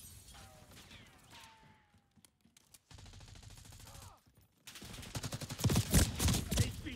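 Gunfire in Call of Duty Black Ops 6: sparse, distant shots and clicks give way to a loud, rapid burst of automatic fire near the end, with no speech.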